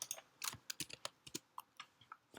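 Keys pressed on a computer keyboard during animation editing software work, a dozen or so sharp, close clicks in an uneven typing rhythm with no talk.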